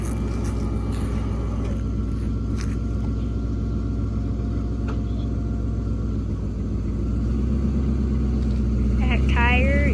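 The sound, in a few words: old Chevy truck being moved, tires rolling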